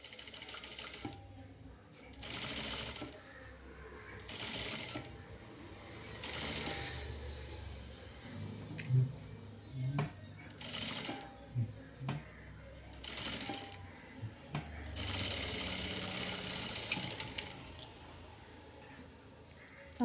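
Bursts of sewing machine stitching come in short runs and pauses while top stitching a blouse lining, with a voice talking in between and handling noises.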